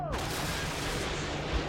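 Dense Call of Duty Modern Warfare 2 gunfire crackles continuously and loud through a brief battle moment, with rapid overlapping shots and a thump near the end.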